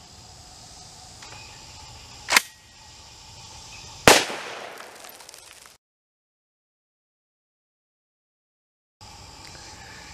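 A shotgun fires two sharp blasts outdoors, a brief crack followed about two seconds later by a louder boom with a trailing echo, then the sound cuts to silence before faint ambience returns, with insects chirping in the background.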